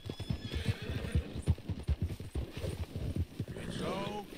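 Steady clip-clop of hooves runs throughout, with a horse whinnying near the end, in Red Dead Redemption 2 on PS5; the sounds have a synthetic, game-like quality.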